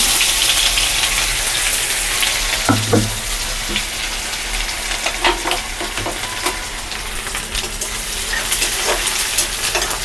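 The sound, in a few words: grated ginger frying in a hot kadai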